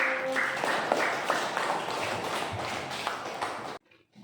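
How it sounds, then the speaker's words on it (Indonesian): Applause from a class of students, a dense spread of many hands clapping at steady loudness for nearly four seconds before cutting off abruptly. "Oke, tepuk tangan untuk kelompok 1."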